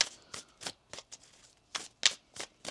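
Tarot cards being shuffled close up in a series of quick, crisp riffles and slaps, about a dozen brief bursts in an uneven rhythm with no talking.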